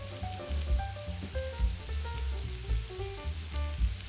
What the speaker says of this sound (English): Continually stir the onions to bring them evenly to a light caramelization, making sure that they don't burn